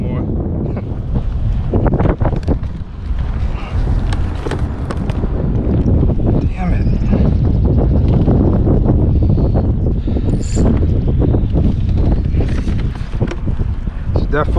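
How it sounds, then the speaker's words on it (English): Wind buffets a fishing boat on the water while bottom fishing for sheepshead off North Carolina, a loud, constant roaring rush over the microphone with intermittent knocks and gusts, close and unbroken throughout. "Definitely challenging with the wind and the current."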